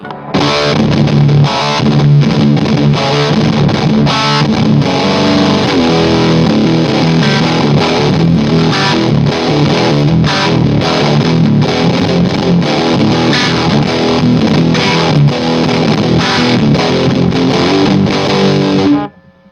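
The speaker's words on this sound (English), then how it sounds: "Using turbo, distortion all the way up, filter all the way down." Electric guitar played through a Mooer Black Secret distortion pedal in turbo mode, distortion fully up and filter fully down, a loud dense saturated riff sustained steadily throughout before stopping abruptly.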